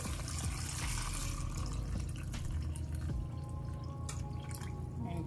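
Water is poured into a blender holding beets, lemon and ginger, a trickling, dripping liquid sound over a low steady hum that eases off toward the end.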